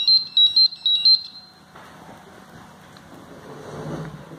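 A Crowcon GasPro gas detector sounds its startup alarm confirmation: five quick, shrill, high-pitched beeps in a fast row, followed by quiet handling noise.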